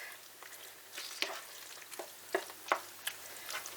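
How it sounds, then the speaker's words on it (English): Mince curry being stirred as Bisto gravy is worked in, giving soft scraping strokes and a faint sizzle, with sharper spoon taps near the end of the sequence, close and fairly quiet. "But I'm going to stir that in."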